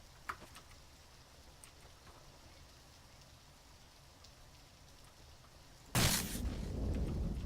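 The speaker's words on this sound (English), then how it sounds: "I also hate the rain." Steady, soft rain patters continuously at a distance, then a sudden loud burst near the end swells into a heavier, rushing downpour or splash that stays up to the close.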